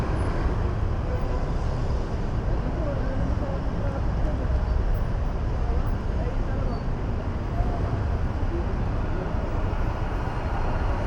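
Steady, dense road traffic rumble on EDSA in Manila, engines droning continuously, a constant low roar of vehicles close by.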